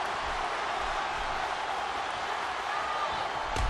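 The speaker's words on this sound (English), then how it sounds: "Would you listen to this crowd show their appreciation for these amazing competitors?" Steady, dense crowd noise fills a wrestling arena as fans cheer on competitors, a continuous roar with no clear breaks and a slight swell right at the end.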